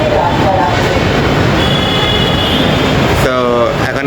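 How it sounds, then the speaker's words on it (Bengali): A Dhaka metro rail train at Shahbag station makes a loud, continuous rumbling roar with a thin tonal whine, and a rising squeal of wheels breaks through near the end. "তো এই যে আমরা মেট্রো স্টেশন, আমরা শাহবাগ থেকে উঠতেছি"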